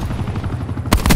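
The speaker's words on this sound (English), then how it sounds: "Hostile attack chopper inbound." An attack helicopter in Call of Duty: Black Ops 4 beats overhead with rapid rotor thumps, joined at the end by a burst of loud gunfire.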